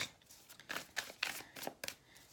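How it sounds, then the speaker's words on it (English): Tarot cards are shuffled by hand in soft, irregular riffles and flicks, several quick papery bursts close and quiet, with no talk. "Doing a little bit more shuffling on camera as usual"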